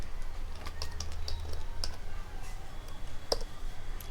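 Steady stream of computer keyboard typing while code is entered to run JavaScript in Visual Studio Code, with rapid irregular key clicks, close and fairly quiet over a faint low hum.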